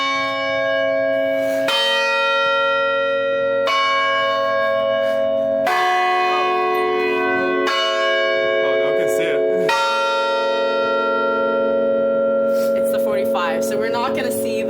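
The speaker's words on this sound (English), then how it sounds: "that is an example of the hour bells." Sage Chapel's automatic hour bells at Cornell toll loudly outdoors, a slow series of deep, ringing strikes roughly every two seconds, each left to hum and decay into the next, with faint voices nearby near the end.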